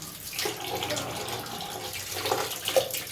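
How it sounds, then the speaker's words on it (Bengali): Cold water running from the pipe of a Hindware geyser, a continuous splashing flow into a sink or bucket with small surges and drips, moderately close and without talk. "অন করো একটু চালাও পাইপে ঠান্ডা জলটা বেরো"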